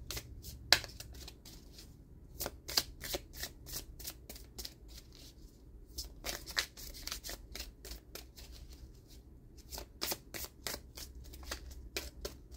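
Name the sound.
shuffling tarot cards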